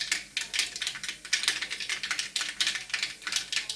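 Mustard seeds popping in hot oil, a dense stream of quick crackling pops, fairly close and steady, with no talk over them.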